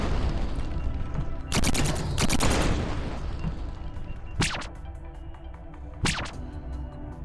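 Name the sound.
turret shooting in the video game Space Grunts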